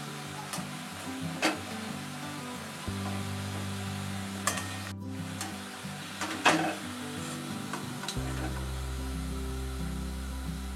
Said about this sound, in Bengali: এবার একে একে বাকিগুলোও ভেজে নেব